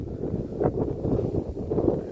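Steady wind buffeting the microphone, a low rumbling roar that swells and eases throughout without pause.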